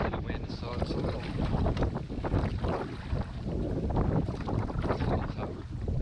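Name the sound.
strong wind gusts while canoeing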